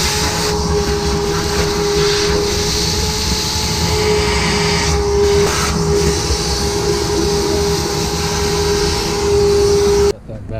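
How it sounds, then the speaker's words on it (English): Vacuum sucking leftover dry, dusty vermicast and seed out of planting trays, a loud continuous whirring roar with a steady tone, close, running for about ten seconds before cutting off abruptly. "Got that vacuumed out."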